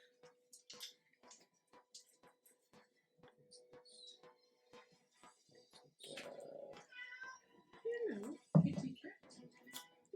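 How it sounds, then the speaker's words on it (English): A stray cat meows repeatedly near a tabletop Dungeons & Dragons session, short cries scattered throughout with a louder, drawn-out meow toward the end, among quiet voices. "Sorry, viewers. Stray cat."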